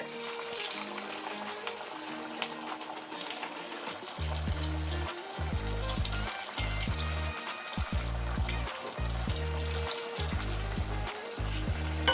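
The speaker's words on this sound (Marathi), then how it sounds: "छान असं खरपूस सोनेरी रंग येईपर्यंत तळायचे." Sabudana vada deep frying in hot oil, a steady bright sizzle and bubbling throughout, close up, with a low rhythmic bumping underneath from the middle onward and no speech.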